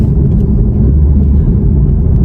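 A Porsche Cayman GTS 981 with a 340-horsepower engine gives off a steady, loud, low rumble throughout, close and constant with no talking.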